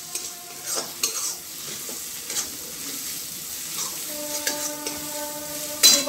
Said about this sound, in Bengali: রসুন বাটা দিয়ে একটু ভালো করে মিশিয়ে নিচ্ছি